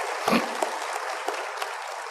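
A church congregation at a Full Gospel service claps together in a steady, broad wash of hands with a few louder individual claps. There is no talk over it.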